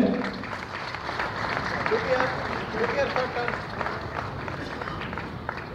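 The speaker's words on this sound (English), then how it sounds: "let me have a huge round of applause for him" Audience applause for a startup award winner at a conference ceremony: a steady wash of clapping from a crowd, fairly loud and continuous throughout, mixed with general hall noise and murmuring.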